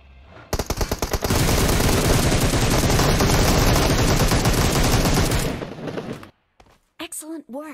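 Dense, continuous automatic gunfire in PUBG roars for several seconds at full loudness, then cuts off into scattered sounds and a few short bursts, with a voice talking briefly near the end.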